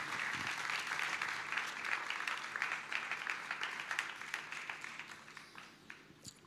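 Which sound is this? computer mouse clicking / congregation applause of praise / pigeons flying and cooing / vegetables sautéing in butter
congregation applause of praise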